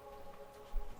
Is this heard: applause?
no